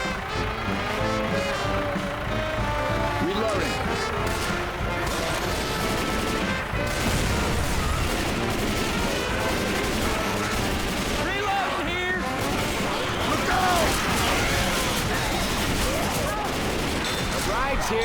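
Rapid gunfire in Left 4 Dead 2, dense continuous shooting and crashes running throughout with no pause, loud and close, with someone talking over it.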